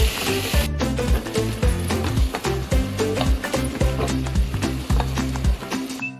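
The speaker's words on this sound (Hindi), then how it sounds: "अब इसको हम 2 से 3 मिनट इसी तरीके से ऐसे चलाते रहेंगे।" Spices are stirred into fried onions and hot oil in a pot for a U.P. style beef stew, with a rhythmic clatter of the spoon over a continuous close sizzle.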